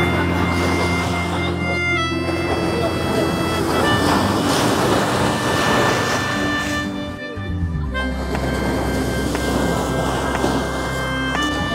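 Sea waves breaking on an estuary shore near Digha, where fishing trawlers return to the bank, a continuous loud roar of surf with wind buffeting the microphone and tonal engine hum from boats underneath.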